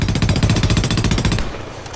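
M4 rifle in the Homefront video game firing a long rapid automatic burst, loud and close, clattering evenly for over a second before cutting off into a decaying echo.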